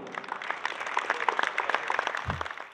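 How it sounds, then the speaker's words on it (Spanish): Audience applause at the opening ceremony of the Expo Leche Gilsa dairy industry forum, a steady patter of many hands clapping at moderate distance throughout, with a brief low thump near the end. "Fuerte el aplauso y recibámoslo."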